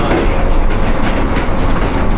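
Jaffar Express passenger train running through a station without stopping on a rainy day, loud close rumble with steady clattering wheels and no talk.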